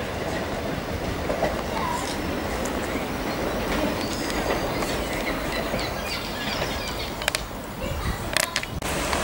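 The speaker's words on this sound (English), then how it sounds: "Here comes the new Thameslink class 387." A Thameslink Class 387 Electrostar electric train pulls into Preston Park station, a continuous rumbling roar with rail clatter building near the end and faint birdsong in the background.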